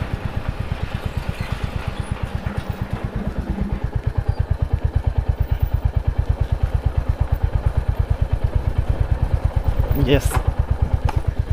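A motorcycle crossing the India-Nepal border rides along with a steady, fast-pulsing engine drone that stays loud and close throughout, with a brief shout briefly rising over it.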